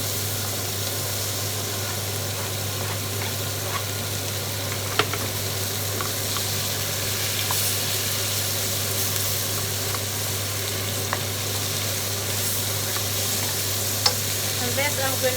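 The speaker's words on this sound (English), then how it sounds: "now I'm going to add the onions" Onions sizzling in hot butter and oil, a loud, even frying hiss that holds steady throughout, broken only by a few faint clicks of stirring.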